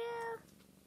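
A kitten gives a single short, clear meow, close and alone, cutting off quickly into quiet.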